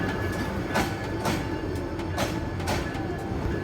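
A train rolls along a station platform with rhythmic clickety-clack of wheels over rail joints and a steady rumble, moderately distant and unaccompanied by talk.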